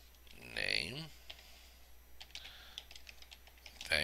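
Keys clatter softly on a computer keyboard as text is typed into a WordPress Contact Form 7 form, light irregular clicks in a quiet room, with a brief voice sound near the start and a louder burst at the end.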